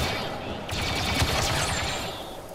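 Rapid blaster fire rattles in a Star Wars Battlefront 2 match, a dense burst of repeated shots up close with the game's battle noise underneath.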